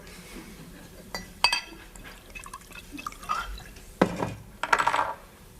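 Wine glasses give several bright clinks and taps in a domestic scene, spaced a second or so apart and closest near the end.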